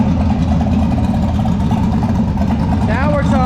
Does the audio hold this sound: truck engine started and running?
yes